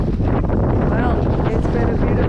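Strong wind roars continuously across the microphone aboard a sailboat near St Kitts and Nevis, loud and close, with the rumble and wash of the boat mixed in.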